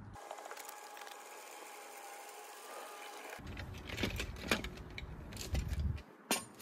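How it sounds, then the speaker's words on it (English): A car jack lowering a 2019-or-later Chevy Silverado after a tire change, first a faint steady mechanical whir, then louder close ratcheting clicks and metallic knocks in irregular bursts. "now we're gonna go ahead and drop the jack down"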